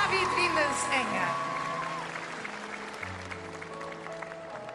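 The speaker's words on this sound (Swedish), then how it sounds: "Vi ger dem en stor applåd!" A concert audience gives a round of applause, steady and moderately loud beneath an announcer's voice, while a singer and music begin to come through, the clapping thinning toward the end.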